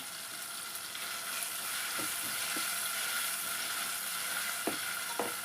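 Tomatoes fry in oil with a loud, steady sizzle, and a spoon or spatula stirs them now and then with a few light scraping taps. No one speaks.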